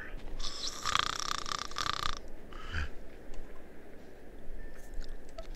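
People imitate snoring, producing a couple of rough, buzzy nasal snore sounds early on, followed by quieter vocal noises over low background hum.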